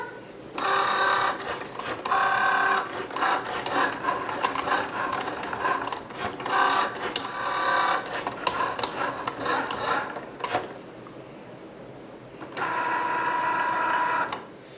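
A Cricut Joy machine cutting a pumpkin card with its blade, a close mechanical whir and buzz in repeated bursts with short pauses, carriage movements rising and falling, no talking.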